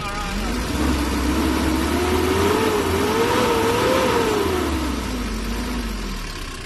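A Nissan Urvan van's TD27 diesel engine runs steadily at idle and close by, its low rumble rising and falling slightly in pitch, with a faint whine over it and a voice talking throughout.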